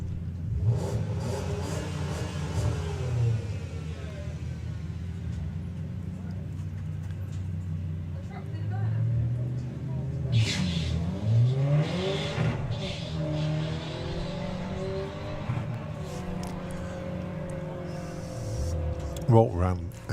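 Front-wheel-drive VW Golf and Skoda Octavia drag cars launch at Santa Pod, engines droning and rising through the run with rumbling revs and crowd noise, under a commentator's continuous talk.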